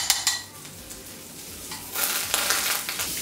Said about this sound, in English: I like to use just a little bit of butter to fry this egg.